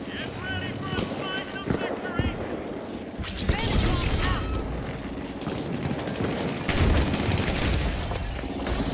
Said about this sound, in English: Vantage bomb out.